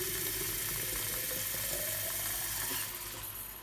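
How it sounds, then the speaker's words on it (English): Steady rushing tap water pours into a bottle for several seconds, a continuous broadband hiss that tapers off near the end. "So now I'm going to just put tap water"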